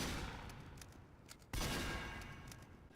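Rapid gunfire in Team Fortress 2, a sustained burst of shots that fades, then a sharp new hit midway followed by another decaying stretch of fire, fairly quiet overall with no talk.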